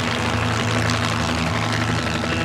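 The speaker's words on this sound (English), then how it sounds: "The helicopter could hover in one spot" Helicopter hovering in one spot, a loud continuous engine and rotor drone with steady low tonal hum and pulsing beat, sustained throughout with no talk.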